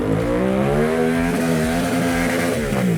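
A Gas Gas TXT 250 trial motorcycle revs hard close by on a cross track, its engine rising and falling in loud, continuous surges with a raspy two-stroke bark and no voices over it.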